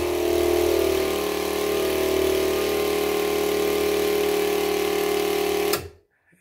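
Pump running with a clogged 500 mesh filter, a loud steady mechanical hum with a strong tonal whine held evenly for about six seconds before the motor cuts off abruptly into near silence.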